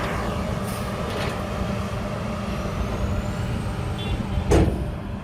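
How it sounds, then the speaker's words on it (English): A 10-ton steel wheel roller compacting asphalt base material, a steady, loud, continuous heavy engine rumble with mechanical clatter throughout and a brief louder thump near the end, with no talking. "The contractor uses a 10-ton steel wheel roller to compact the base material."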